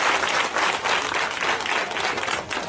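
Applause from a school audience during a cultural week quiz in Dapaong, a dense steady burst of many hands clapping for a few seconds, loud and continuous.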